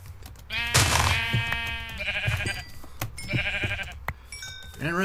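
Several sheep bleat in a Minecraft world, with a loud harmonic bleat early on followed by more bleats at varied pitches, close and clear, and a few light clicks and thumps between them.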